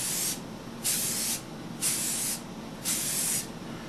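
Four evenly spaced, sharp bursts of spray hiss close by, each about half a second, aimed at the side panels of a Volvo 240 headlight during restoration, with no speech.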